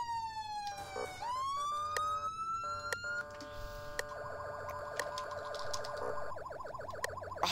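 A loud electronic police siren wails up and down, then switches to a rapid yelp pattern, with sharp clicks and blips scattered throughout.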